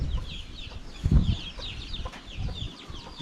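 Several chickens cluck and murmur close by in short, irregular bursts, with a louder cluster of clucks near the middle and faint calls in the background.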